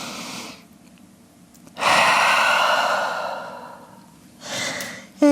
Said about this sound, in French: on prend une grande respiration en chien tête en bas